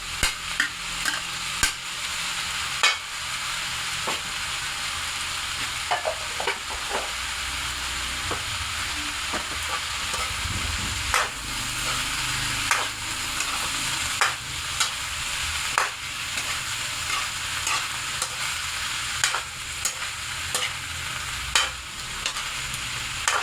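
Celery and onion sauté in a pan, a sustained close sizzle punctuated by sharp clacks and scrapes of a spatula stirring at irregular intervals, with no talking.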